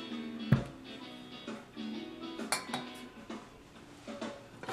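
Rocks are set into the bottom of a Zebra billy bush pot used as an alcohol-powered camp oven, giving a sharp metallic clunk followed by scattered clinks and scrapes of stone on metal, close up, with no speech.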